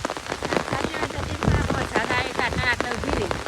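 Heavy rain pours down steadily in a dense, constant patter on surfaces nearby, while people talk over the downpour.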